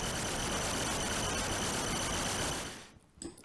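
A Noise Plethora synth module plays one of its noise programs: a dense, steady wash of broadband hiss that holds for a few seconds, then cuts out into near silence with a few brief faint clicks.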